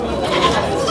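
A young goat bleats at a goat market where milk goats are traded, a loud, continuous cry through the whole second with crowd noise and voices underneath.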